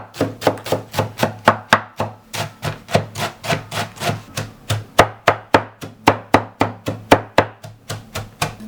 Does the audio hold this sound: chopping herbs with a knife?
yes